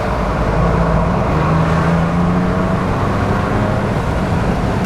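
A 2021 Ford Bronco fitted with a Corsa Turndown catback exhaust runs with a loud, deep, steady exhaust rumble close by, rising slightly under throttle, with no talking.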